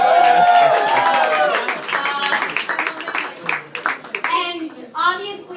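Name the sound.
wedding guests applauding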